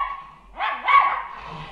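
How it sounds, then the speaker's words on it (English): A dog's drawn-out howl from the 1939 film The Hound of the Baskervilles, set on the moors: one rising, wavering cry heard fairly close and alone, with a quiet pause before it. "They go for walks and they can hear the howling of the dog."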